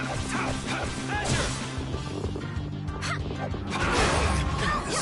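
Small dog yipping amid a hectic Tales of Vesperia battle, short sharp barks mixed with crashing hits, spell effects and music, all dense and loud throughout.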